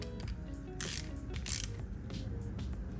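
A ratchet wrench clicks rapidly and continuously while tightening a part on a KA24 engine in an S13 hatchback, the mechanical ratcheting close and loud with a couple of brighter bursts.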